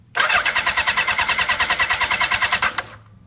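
A 1975 Honda CB750 K5 motorcycle with a newly replaced starter motor cranks in a fast, even chugging rhythm for nearly three seconds, loud and close, then stops without catching.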